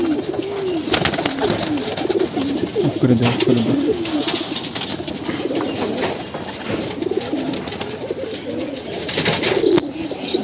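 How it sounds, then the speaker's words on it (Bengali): A male pigeon coos repeatedly inside a loft, warbling throaty calls that come close and loud over a steady background, with other pigeons faintly audible and a voice talking at times. "নরকবুতর এটা"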